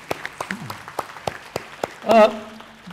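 Scattered, irregular claps from an audience at a school event, with a brief voice sound near the end.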